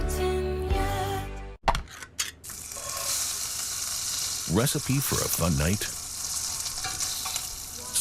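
Spam fries in a pan with a loud, continuous sizzle and some stirring noise, while a voice speaks briefly near the start.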